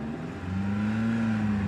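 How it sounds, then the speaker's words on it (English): A Monte Carlo Rally car pulls away from the start podium, its engine note rising briefly in a short, close burst of acceleration. "Let's see one of the cars go off now."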